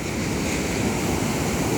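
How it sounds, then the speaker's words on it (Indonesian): Ocean waves at night off an island near a city in Aceh, rolling in steadily from the open water, a continuous loud wash of surf with wind noise and no voices. "Itu ombaknya datang dari ujung, dari tengah tuh datang terus."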